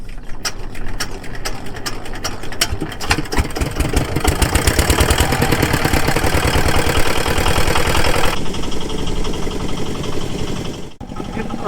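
A country boat's engine chugs loudly and steadily up close with a rapid mechanical rattle on the Padma river in the monsoon, its pitch shifting partway through before briefly dropping out near the end.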